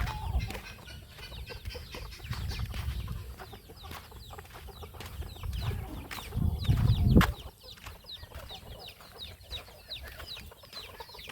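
Chickens cluck on a rural farm among ducks and other fowl, making repeated close clucks and scratchy calls with low shuffling, building to a louder burst before settling back to scattered clucking.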